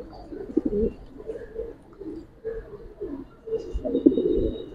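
A pigeon coos in low, throaty bursts, repeating several times over a few seconds at close range, with faint background noise and no clear talk.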